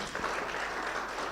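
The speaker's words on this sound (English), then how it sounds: "Another round of applause," Audience applause at a national launch event in a hall, a steady wash of clapping filling the whole brief moment with no voices over it.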